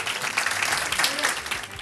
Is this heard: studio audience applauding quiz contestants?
yes